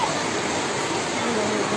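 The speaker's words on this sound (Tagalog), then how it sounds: "malakas ditong tubig oh" Strong floodwater rushes from a river overflowing during a typhoon in Bicol, a loud, steady, broadband roar filling the whole moment with no break.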